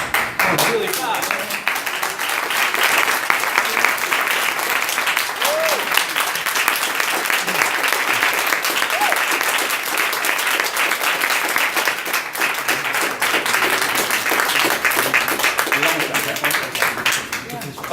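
Sustained audience applause after a performance, steady dense clapping from a large crowd lasting the whole stretch, loud and continuous with little variation.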